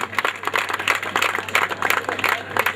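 Crowd clapping at a temple consecration festival in Kotha as a singer is welcomed onstage, a steady spatter of hand claps lasting throughout with no voices over it.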